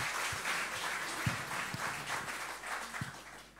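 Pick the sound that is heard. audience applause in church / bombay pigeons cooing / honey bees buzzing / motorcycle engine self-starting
audience applause in church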